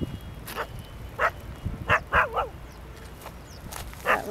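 Dogs at a municipal dumping ground bark in short scattered yaps and yips, several separate barks spread over a few seconds, moderately close with outdoor background noise.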